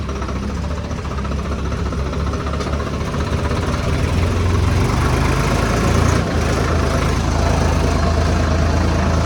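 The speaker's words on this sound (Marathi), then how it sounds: "हे बघा मित्रांनो हे ट्रॅक्टर आपलं फसलेलं आहे आता जागेवर." A small tractor engine, the tractor stuck in place, runs loud and close with a steady low chugging rumble, holding a constant idle throughout with no voices.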